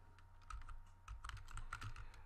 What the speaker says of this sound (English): Let me write here no auto summary.